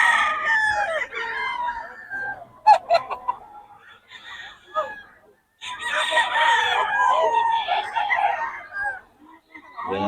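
A rooster crows loudly and close by in the morning in Bocaue, Philippines, several drawn-out calls, with hens clucking around it and brief bursts of other farmyard noise.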